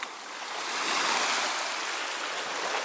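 Sea waves wash over a stone beach at Isla Tortuga, Costa Rica, making a continuous broadband hiss and rush that swells slightly in the middle, heard close up with no voices.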